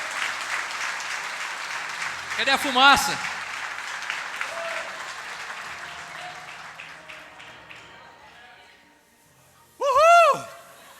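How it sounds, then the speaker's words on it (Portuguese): A church congregation claps for Jesus in continuous broadband applause while people shout and speak over it, the clapping thinning out toward the end before a loud voiced whoop breaks in. "Então aplauda Jesus, é para Jesus."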